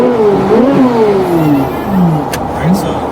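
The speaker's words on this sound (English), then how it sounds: "if I wanted to just rev it, you pull both paddles" A Chevrolet Corvette C8 Z06 engine revs in place with both paddles pulled, its pitch climbing and falling in several loud, nearby sweeps, with a voice talking over it.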